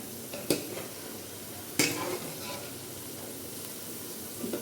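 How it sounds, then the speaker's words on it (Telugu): Veg Manchurian balls frying in hot oil until brown, a steady hiss of bubbling oil with two sharp clinks of a utensil against the pan, close and moderately quiet. "ఇంకా బ్రౌన్గా రావాలి లైక్ బ్రౌన్గా అయ్యేంత వరకు మనం ఫ్రై చేసుకోవాలి"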